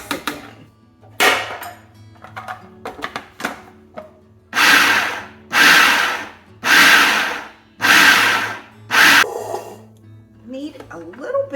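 Food processor pulsing a plant-based artichoke and sun-dried tomato patty mixture with oats, five loud whirring bursts of about a second each separated by short pauses, after brief clattering handling sounds.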